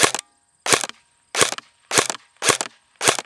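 A beginner airsoft electric gun (AEG) fires 0.2 gram BBs at a target at medium to close range, six sharp, loud snapping shots spaced evenly about half a second apart, each ending abruptly in near silence.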